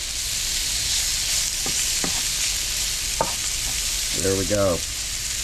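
Fish sizzles in a hot frying pan, a loud, steady hiss that runs throughout, with a few scraping knocks from the pan. Someone speaks briefly near the end.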